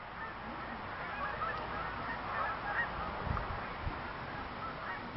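A flock of wild geese honks overhead in overlapping waves of calls, fairly close and steady over outdoor background noise, with no talking.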